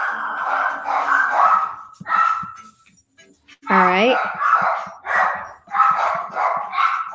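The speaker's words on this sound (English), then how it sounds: "my dogs are barking" Dogs bark and yip in short bursts near a person who speaks briefly, with a high whimpering cry partway through and a short quiet gap.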